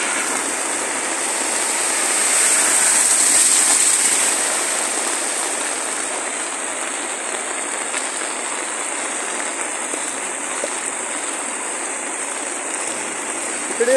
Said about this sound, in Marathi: एवढा मोठा पाऊस पडतोय की अप्रतिम पाऊस पडतो